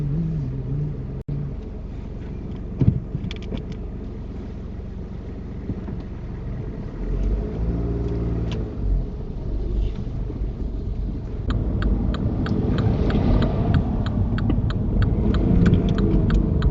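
Car driving during a driving lesson on test day, engine rumble steady throughout with shifts in pitch as gears change, close-up cabin sound with light wind noise and a brief knock.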